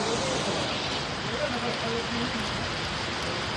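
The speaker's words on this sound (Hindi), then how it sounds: "बारिश ही बहुत पड़ रही है" Heavy rain pours steadily as a dense, loud hiss throughout, masking faint speech-like traces beneath.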